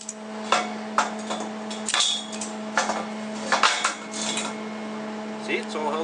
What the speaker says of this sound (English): So now, we'll just take our clamps off